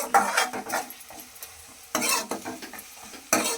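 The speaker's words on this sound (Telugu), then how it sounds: "వేసుకున్న పచ్చిమిరపకాయలు, చిటికెడు పసుపు వేసుకొని మిక్సింగ్." Green chillies and a pinch of turmeric are stirred in a pan for coconut rice, with bursts of scraping spoon strokes over a light sizzle and short pauses between them.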